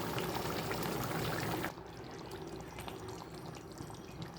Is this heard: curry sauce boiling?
yes